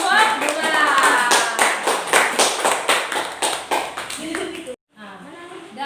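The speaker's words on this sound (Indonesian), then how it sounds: "Kita beri tepuk tangan dulu untuk kelompok bulan" Students in a classroom clap for a discussion group, a rhythmic burst of hand claps that fades after a few seconds, followed by a brief pause and a voice talking.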